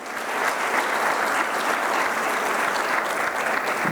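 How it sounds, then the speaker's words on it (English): Audience applause at a university rankings celebration, a full, steady roar of many hands clapping throughout, loud and continuous with no speech over it. "So a round of applause to yourself, making it to rank 37."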